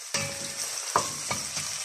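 Wild garlic stems and onion cooking gently in a pan, a steady soft sizzle broken by a few sharp utensil clinks and scrapes at intervals, close by with no one talking.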